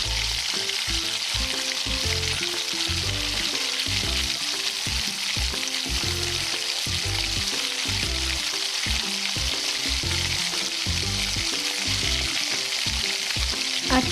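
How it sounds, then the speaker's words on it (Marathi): Spiced mutton frying on a hot tava with a loud, continuous sizzle, while a spatula scrapes and stirs in a steady rhythm through the whole stretch, close up and with no talk. "हे सगळं घालता घालता हलवत आणि मिक्स करत राहायचं."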